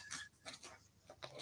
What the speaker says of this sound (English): You can hear me bending them and shuffling them the old-fashioned way